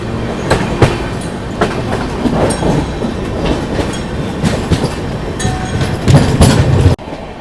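An Indian express train rumbles past steadily at close range, continuous wheel clatter and rail noise filling the scene until it cuts off abruptly near the end.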